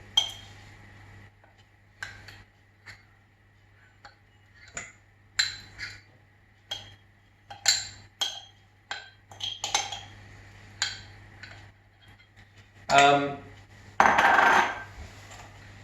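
A spoon clinks and scrapes against a bowl while mixing oatmeal chocolate chip cookie dough, with sharp irregular taps spread through the stretch and a couple of louder rustling scrapes near the end, close and with no talk.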